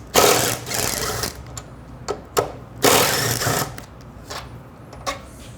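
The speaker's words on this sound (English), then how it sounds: "So now, just gonna remove these 2 screws using our 8mm socket." An 8mm socket on a ratchet backs out two screws on a Ducati Scrambler, giving bursts of rapid clicking and ratcheting separated by short pauses and a few sharp metallic ticks, close and fairly loud.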